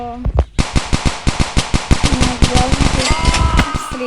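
Rapid rifle gunfire in the Dude Theft Wars video game, a loud close burst of sharp shots in quick, fairly even succession that grows denser toward the end.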